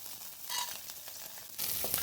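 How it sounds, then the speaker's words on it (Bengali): Raisins and peanuts dropped into hot oil in a pan, a soft steady sizzle with a brighter burst of crackle near the end, faint and close, no voices. "এবার তেলে দিয়ে দিচ্ছি কিছু কিশমিশ আর চীনাবাদাম।"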